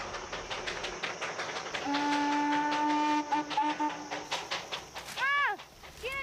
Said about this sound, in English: And the sounds of the train they brought echo up from the valleys.